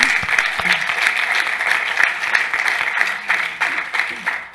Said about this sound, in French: que l'on peut applaudir à nouveau.